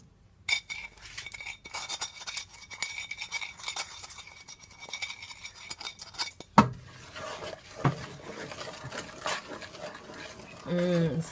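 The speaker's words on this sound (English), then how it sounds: "Just continue to stir it." Spoon clinks and scrapes inside a pot of shrimp, sausage and corn seafood boil on low heat, a series of light metallic taps and clatters, busier in the second half, with faint voice in the background.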